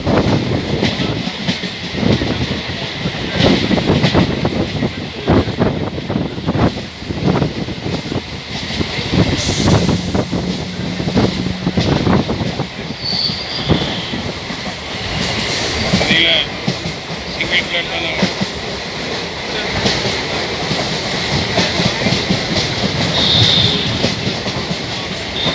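A Southern Railways suburban train on the Chennai Beach to Tambaram line in India, rumbling with rhythmic clickety-clack of wheels on rail joints and brief metallic squeals, heard from close by with a voice talking over parts of the run.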